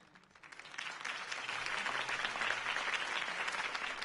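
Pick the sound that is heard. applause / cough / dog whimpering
applause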